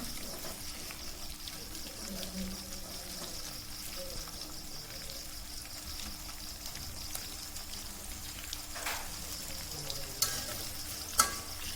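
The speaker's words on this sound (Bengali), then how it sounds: "চুলার আঁচ হালকা কমিয়ে লাল লাল করে ভেজে নেব।" Pointed gourd and potatoes fry in a pan over lowered heat, giving a steady soft sizzle with occasional stirring scrapes and a couple of sharp clinks near the end.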